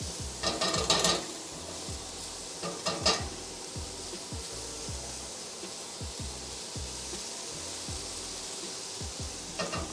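Onions browning in a pan for beef stew sizzle steadily up close while a utensil stirs and scrapes them in repeated rhythmic strokes, with a few louder bursts of scraping.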